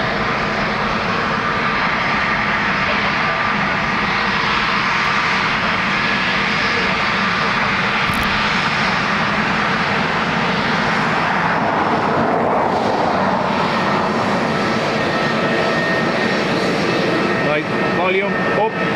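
Delta airliner jet passing at Dublin Airport, a loud continuous engine roar and broad rushing noise that holds steady throughout, with a voice speaking under it.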